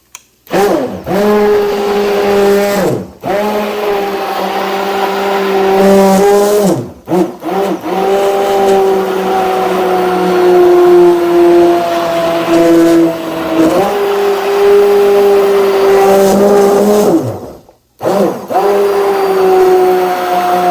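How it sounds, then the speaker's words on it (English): Immersion blender whirring through home-canned garden tomatoes, a loud close motor whine that runs in long stretches with short pauses between them, its pitch dipping and rising as the load changes. "most of you guys know how immersion blender works"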